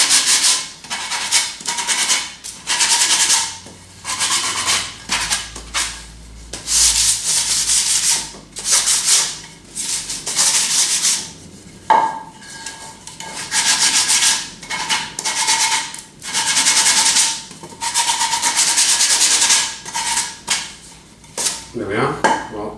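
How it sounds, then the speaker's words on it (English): Repeated back-and-forth scraping of glass paper on a block against wood edges, removing saw burrs while building a wedging table frame, in loud, rhythmic bursts with short pauses, close by, plus an occasional light knock. "I've got a block here and a bit of sandpaper, glass paper, just to take off any of the burrs"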